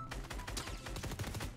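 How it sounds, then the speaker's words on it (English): Rapid gunfire in the Fortnite video game with a shotgun: a dense run of sharp, loud blasts close by, one after another across the whole short burst, with no talking. "Bro, that shotgun is insane."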